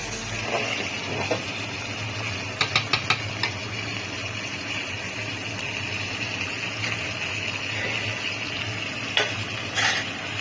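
Khichuri stirred in a pan over a steady frying sizzle, with a few quick scraping clinks of the utensil in a short cluster and a couple more later, fairly faint and without talk.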